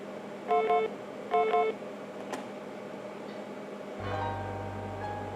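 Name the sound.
phone ringing in video game Tex Murphy: The Pandora Directive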